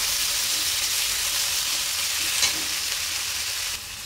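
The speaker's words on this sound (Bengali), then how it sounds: "ভালো করে কষিয়ে নেব।" Chili, bay leaf, cumin and onion, green chili and ginger pastes sauté in mustard oil in a pan, giving a loud, steady, continuous sizzle close up with a faint clink near the end.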